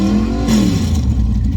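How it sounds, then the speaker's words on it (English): Loud Nissan 240 drag car with a 4L80E transmission and trans brake, its engine revving hard and close, a sustained aggressive roar rising then holding steady without any talk. "This car is really loud."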